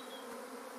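Honeybees swarming out of a hive, a dense, steady buzzing hum of many bees, close and continuous for a brief moment.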